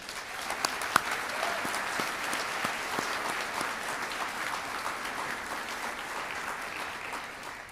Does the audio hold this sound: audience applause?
yes